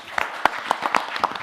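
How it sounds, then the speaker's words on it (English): Brief burst of audience applause for panel speakers on stage at a bank's annual meeting in Moscow, a scattered patter of separate claps from a modest crowd. "I want you to applause again to our fantastic, magnificent speakers on the stage."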